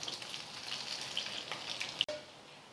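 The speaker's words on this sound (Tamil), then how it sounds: "ஒரு பக்கம் பொரியட்டும்." Rice flakes cutlets frying in hot oil give off a steady, faint sizzle with fine crackles, then a single sharp pop near the end.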